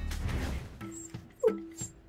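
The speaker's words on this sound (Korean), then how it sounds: "이렇게 짖고 계속 이렇게 점프하고 짖어요. 낑낑거리고." A dog left indoors whines and yips in short, high bursts with a few sharp barks, close and fairly loud, between brief quiet gaps.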